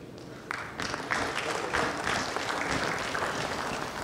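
A conference audience applauds a professor accepting a token of appreciation at a plenary session, with a steady patter of many hands swelling after a moment and holding at moderate loudness.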